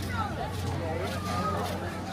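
Steady crowd chatter and babble at a busy outdoor gathering awaiting a chief minister's arrival at Jatela Dham Majra, a continuous murmur of many voices with a low hum underneath.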